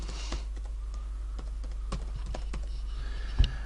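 Fingers type on a computer keyboard in irregular, quick clicks and taps over a low steady hum, close and moderately loud, with no voices.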